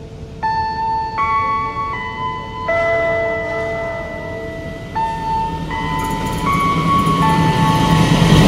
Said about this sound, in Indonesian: di jalur 3 dari arah timur akan berjalan langsung kereta api Bima